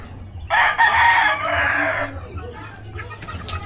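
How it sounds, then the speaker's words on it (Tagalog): A rooster crows loudly and close by in one long call, followed by softer clucking and farmyard murmurs at a pigeon loft. "ang dami niya rito ng manok"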